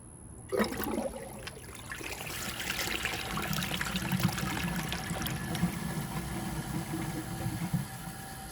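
A 2001 Eljer Canterbury toilet flushes with a rushing, gurgling swirl of water that runs steadily for several seconds, fairly close and without any talking.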